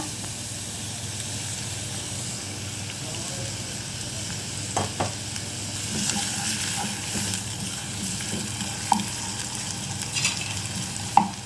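Onions sizzle in oil in a pan for Ethiopian shiro, a steady broadband frying hiss with a few soft stirring clicks and scrapes toward the end, close and moderately loud, no talking.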